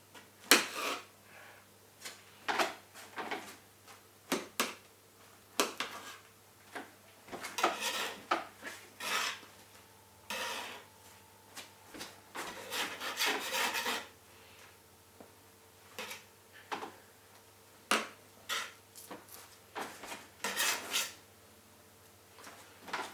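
A knife cuts through dry-roasted pumpkin on a board, with a string of sharp irregular scrapes, taps and clatters up close, some in quick bursts and others spaced apart.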